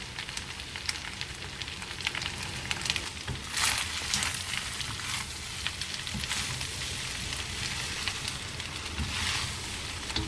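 Cheesy basil pasta gets stirred in a pan, giving a soft, continuous sizzle and crackle with scraping bursts as the spoon moves through it, fairly quiet throughout.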